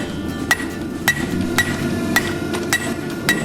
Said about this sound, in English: I'm gonna get back to forging now on the paring knife.